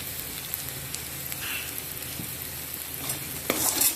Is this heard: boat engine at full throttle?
no